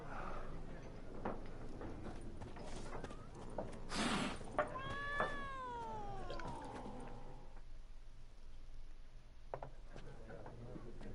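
A cat in the video game Witcher 3 Complete Edition gives a single drawn-out meow that rises then falls, close and clear over quiet in-game ambience.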